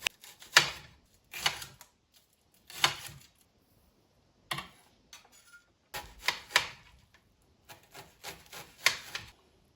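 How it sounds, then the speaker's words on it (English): A knife dices a red onion and chops spring onions on a board, heard as bursts of rapid, crisp chopping strokes separated by short pauses, close and fairly loud. "I'm gonna dice 1 red onion and just chop up some spring onions as well."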